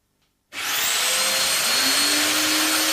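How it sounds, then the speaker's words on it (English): A Mafell DD40P dowel drilling machine spins up abruptly and runs with a loud, steady high-pitched whine, close and continuous with no talk, while drilling holes for an edge-to-edge dowel joint. "Drill the first 2 holes as before."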